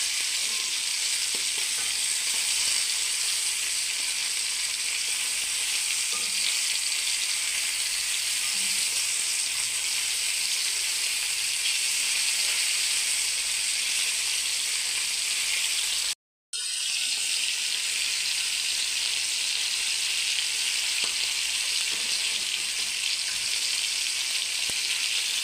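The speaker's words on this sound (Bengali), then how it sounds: "আমি পাঙ্গাস মাছ ভেজে নিচ্ছি" Pangas fish frying in a pan for bhuna makes a loud, continuous hiss and crackle of hot oil, running unbroken apart from one brief silent cut partway through, with no voices.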